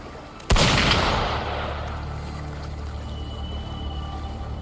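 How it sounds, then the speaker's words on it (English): One sharp, loud gunshot blast in the video game Wuthering Waves that rings out into a long, fading reverberant tail, with no talking. "Gunfire!"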